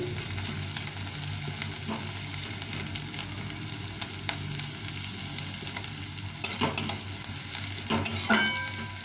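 Two large onions fry in oil in a pan until reddish-brown for street-style ghugni, producing a continuous close sizzle with occasional stirring scrapes and a few brief utensil knocks near the end, with no speech.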